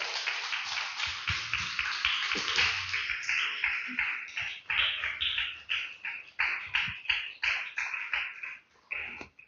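A small church congregation claps for the Lord during worship, a dense patter of many hands that thins into scattered uneven claps toward the end, fairly close with no voices over it.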